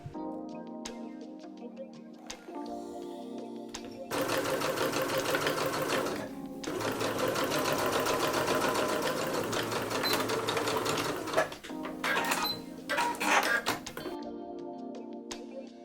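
A sewing machine runs in bursts while understitching a pocket seam, with a steady mechanical whir and rapid ticking. It starts briefly, then stitches continuously for several seconds and ends in shorter stop-start runs with light clicks, close up and alone.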